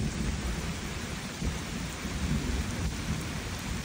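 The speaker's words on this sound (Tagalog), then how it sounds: "Medyo maulan na po." Steady heavy rain falling in a thunderstorm outdoors during an eel hunting trip, a dense continuous hiss with low rumbling underneath, loud and unbroken throughout.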